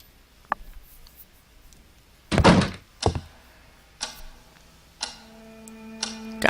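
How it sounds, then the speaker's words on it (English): Key turning in the front-door lock in the old adventure game Scratches, a sharp click followed by a heavy thunk and the creak of the door swinging open, several distinct close knocks and a lingering tone. "With very little effort, the key unlocked the front door"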